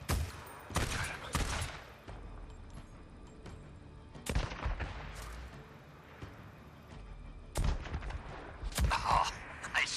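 Gunfire rings out in the Days Gone video game: several sharp, loud shots and short bursts come in clusters, separated by quieter stretches of ambient game noise.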